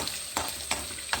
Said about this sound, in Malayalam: ഞാൻ വേറെ ചട്ടി വെച്ചിട്ട് അതിൽ കുറച്ച് എണ്ണ ഒഴിച്ചിട്ട് അതിൽ തേങ്ങ വറുത്തിട്ട്